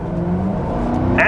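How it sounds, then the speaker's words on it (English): A Ford Crown Victoria Police Interceptor accelerates from a low steady engine drone, the pitch rising as the revs climb toward the end. "put your boot down"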